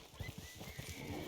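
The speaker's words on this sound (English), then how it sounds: "My horse is going to get scared and buck me off." Hooves of a horse in Red Dead Online clop along in a quick, soft rhythm, faint and somewhat distant beneath a steady ambient game backdrop, with no talking.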